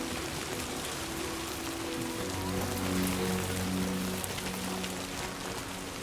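Steady rain falling in Death Stranding 2, a dense continuous hiss of drops on surfaces near and all around, with a low tonal drone underneath and no voices.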